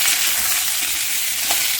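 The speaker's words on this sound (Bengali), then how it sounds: "তেলটা তেতে গেছে আমি আলু দিচ্ছি" New potatoes dropped into hot oil for a chicken curry crackle in a dense, steady sizzle that stays loud and even from start to finish, with no voices over it.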